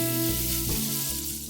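Butter sizzles steadily in a hot kadhai at the start of a restaurant-style paneer korma, a continuous close crackle and hiss with no voices.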